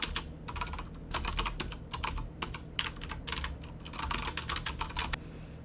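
Rapid bursts of computer keyboard typing as code is entered for a MonoGame 2D camera project, close and clear in quick irregular runs with short pauses between, no voices.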